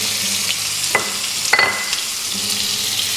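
Chopped shallots sizzling in oil over popped mustard seeds, a close, bright frying hiss broken by a few sharp spatula scrapes and clinks against the pan.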